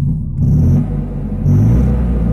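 A 1976 Fiat 126 first-series engine runs steadily with a low, throbbing rumble that stays close and fairly loud throughout, swelling slightly in places, with no voices.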